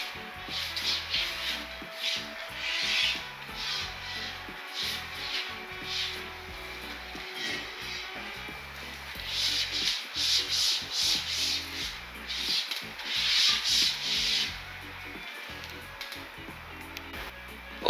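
Microfiber cloth wiping ceramic coating onto a wheel, soft rhythmic rubbing strokes in bursts of varying strength, close and fairly quiet.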